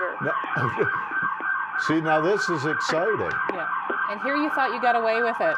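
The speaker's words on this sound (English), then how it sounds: "I can hear sirens." Emergency sirens wail outside on a New York street, a steady, fairly loud warbling tone running under the whole stretch while people talk over it.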